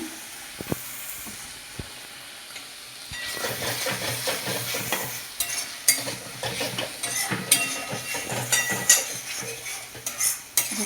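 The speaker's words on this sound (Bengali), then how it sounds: "নাড়িয়ে দিয়ে মশলাটা একটু কষাবো" Ground spice paste for cashew mutton curry frying in a pan, quiet at first, then a loud steady hiss and sizzle with rapid scraping strokes of a spoon, close up with no talking.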